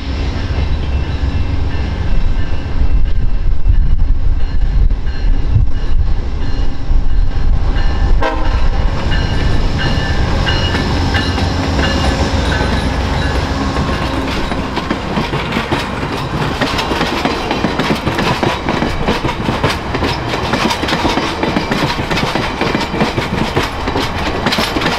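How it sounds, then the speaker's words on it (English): A Via Rail passenger train hauled by a P42 locomotive rolls into Windsor with a loud, close rumble and rhythmic clatter of wheels on track, a brief horn toot sounding early on. "We got a nice toot of the horn from the engineer as he eases his train into Windsor."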